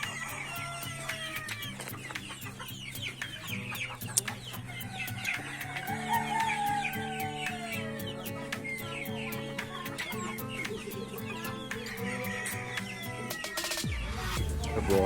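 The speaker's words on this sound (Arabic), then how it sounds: "دجاج." Chickens in a zoo enclosure clucking repeatedly in short, irregular bursts, several birds close by over a low background hum.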